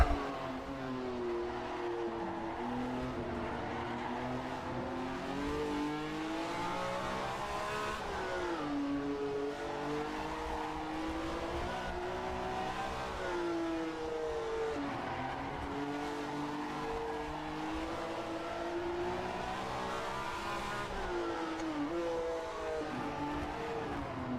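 A 1967 Formula One car's engine blares through spaghetti exhausts in rFactor 2 on the Nordschleife, a loud, steady, close-up howl rising and falling with gear changes and revs, with occasional tire squeal and no talk.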